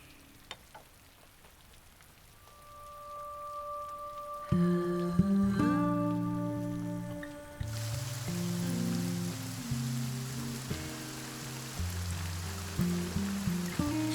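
Steady rain falls outside, a soft even hiss heard alone at first, then continuing beneath swelling music with low sustained tones.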